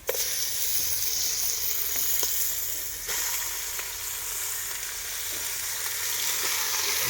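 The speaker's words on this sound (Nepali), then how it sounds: "अहिले चाहिँ मासु राख्दैछौँ।" Pieces of local chicken meat fry in a hot pan with a loud, steady sizzle and hiss, a few brief clicks of stirring or shifting near the start and midway, close up with no talk.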